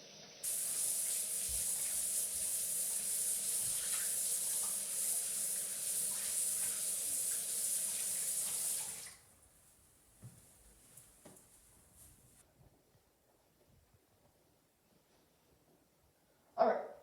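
Tap water running into a sink during handwashing, a steady close hiss for about nine seconds before it shuts off, followed by faint rustling and a short knock at the end.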